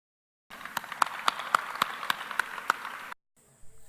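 A small group claps in short sharp bursts, about nine distinct claps at a steady rhythm, close and fairly clean, then stopping abruptly.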